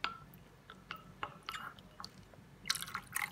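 Vegetable glycerin being stirred into a homemade hand sanitizer mixture, giving faint wet clicks and drips in a quiet, close setting, with a brief louder burst of splashy sound near the end.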